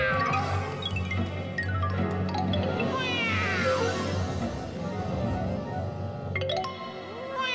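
A voice imitates a cat, giving a series of drawn-out, wavering meows and a caterwauling yowl, close and fairly loud, with no other talk.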